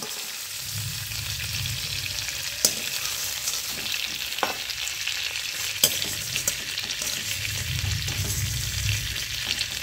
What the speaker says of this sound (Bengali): এই তেলের মধ্যে আমি ফুলকপিগুলোও ভেজে নিচ্ছি।